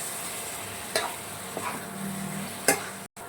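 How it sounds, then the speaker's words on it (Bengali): Coriander powder and Kashmiri chili spices sautéing in oil make a low steady sizzle, broken by a few sharp spatula scrapes against the pan. "এবার এগুলোকে আমি একটু কষিয়ে নেব"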